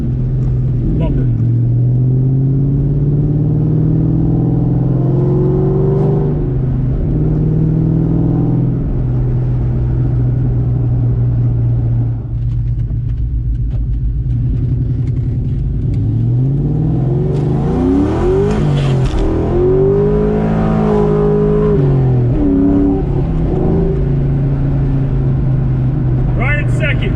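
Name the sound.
2003 Ford Mustang Mach 1 4.6 4V V8 engine revving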